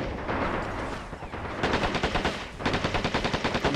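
Sustained machine gun fire from the Men of War: Assault Squad 2 video game, loud rapid bursts of rattling shots in two long strings over a dense battle din.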